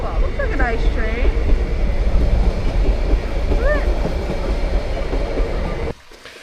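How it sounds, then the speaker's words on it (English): A train rumbles past near Ljubljana, Slovenia, a loud steady low roll with faint high squeals and whistles over it, cutting off abruptly near the end. "Oh, that looks like a nice train."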